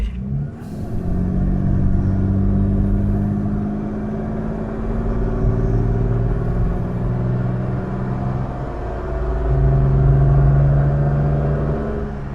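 A 1967 Jaguar Mark 2 engine pulls steadily under load up a steep hill, a sustained close rumble with rising revs that swell and ease across the stretch, no voices over it.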